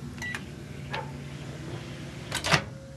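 A microwave oven in a camper gives a few short electronic beeps at the start, followed by faint clicks and a louder burst of noise near the end, in a quiet room.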